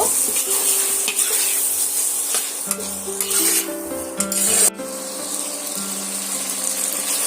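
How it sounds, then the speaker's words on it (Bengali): Potatoes stir-fry in oil with spices and ginger-garlic paste in a pan, giving a close, steady sizzle. A spoon scrapes and stirs against the metal repeatedly, and a tonal hum runs underneath, with no talk. "যতক্ষণ না আদা রসুনের কাঁচা গন্ধটা চলে যাচ্ছে ততক্ষণ ধরে আমি আলুটা এইভাবে কষিয়ে নেব"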